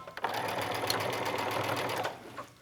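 A sewing machine runs steadily in a continuous back-stitch burst along a skirt or pants waistband, whirring close and loud for about two seconds before stopping.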